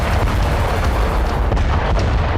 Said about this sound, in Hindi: लगातार रॉकेट प्रहार से रूसी सेना ने इस इलाके के कोने कोने को दहला दिया है।